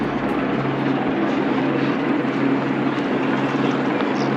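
Helicopters flying over the Sydney Marathon make a steady droning rotor hum, continuous and fairly loud, with no speech over it.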